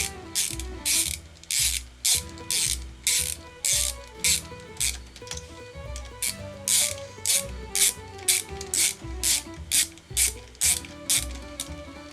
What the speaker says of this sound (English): and tighten the bolts.